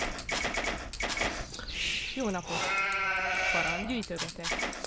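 Sheep bleat in an Age of Empires-style strategy game during the opening, several wavering calls in quick succession, heard clearly under steady commentary from a player.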